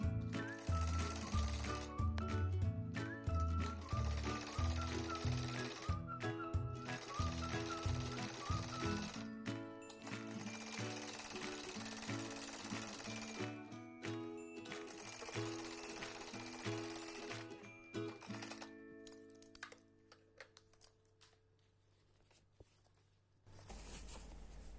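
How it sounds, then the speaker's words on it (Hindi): A sewing machine stitches a salwar hem in long runs of fast, even mechanical chatter, pausing briefly between bursts, close and steady with no talk. "इस तरह से यहाँ से हमें सीधी सिलाई चलानी है।"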